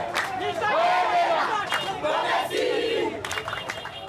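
Residents in a Kinshasa street cheer and shout as police vehicles pull away after a drug raid, a loud, close crowd of excited voices with yelps and calls rising and falling, with little distinct clapping.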